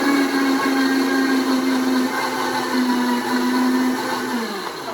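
A blender whirs loudly as it pulses a green tomatillo salsa of cilantro, garlic and onion, its motor whine surging in short bursts and briefly dipping between pulses before winding down at the end.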